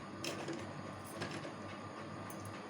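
A sewing machine runs steadily while stitching piping onto a lined kurti, a quiet, even mechanical whirr with faint rhythmic clatter and a few light clicks.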